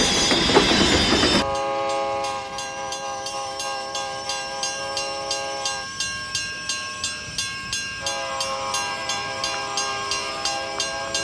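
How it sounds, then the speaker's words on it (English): A train approaches with a loud rushing burst, then sustained horn tones over a steady, rhythmic clickety-clack of wheels on rail joints that repeats through the rest of the passage. "the train's coming."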